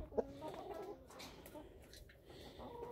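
Chickens in a snowy winter farmyard cluck softly and sporadically, with a sharper squawk near the start, faint and somewhat distant against low background noise.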